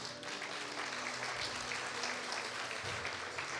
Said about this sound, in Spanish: Dale un aplauso, sí le vas a dar un aplauso.